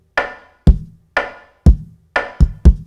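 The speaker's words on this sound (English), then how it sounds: "So kick and snare together sound like this." A mixed kick and snare beat: a deep, punchy kick alternates with a bright, crisp snare in an even groove, six loud, clean hits with nothing else playing.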